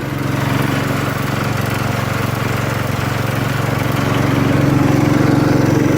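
A 1968 John Deere 110 garden tractor engine runs steadily close by, a loud continuous mechanical drone with a buzzing hum that stays level throughout, then swells slightly toward the end.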